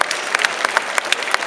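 An audience at a street juggling show in Covent Garden, London, claps loudly and close by in a short burst of sharp, fairly sparse handclaps with no voices over it.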